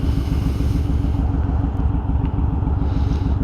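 A Yamaha Roadstar 1600cc cruiser motorcycle idles at a red light, its steady low, lumpy rumble continuous and close throughout.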